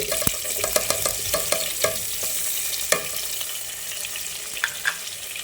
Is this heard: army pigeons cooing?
no